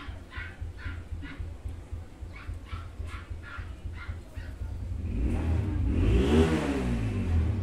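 An engine rumbles nearby as a series of short sharp barks repeat in a steady rhythm, then the engine revs up louder, swelling into a rising roar that drowns out the barking.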